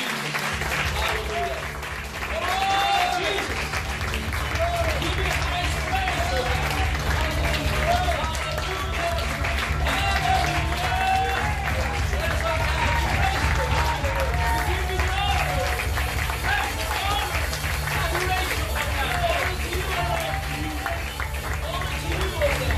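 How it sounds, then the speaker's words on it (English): A church congregation bursts into sustained, dense clapping in praise that fills the room for over twenty seconds, with voices and cheers mixed into the applause. "Can we give the best clap of praise?"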